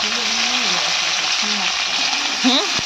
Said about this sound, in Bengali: কড়ার মধ্যে দিয়ে দিয়েছি তেল। তো ঢ্যাঁড়সটা একটু ঝাল করে নেব সর্ষে দিয়ে